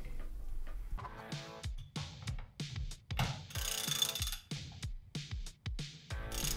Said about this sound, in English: We're gonna get a strap wrench around the 26 millimeter part of the upper compression